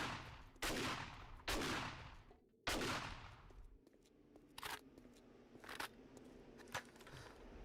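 A shotgun fires in the zombie survival video game 7 Days to Die. Three loud, sharp blasts come close together, then quieter, distant-sounding shots crack at irregular intervals, with no talking.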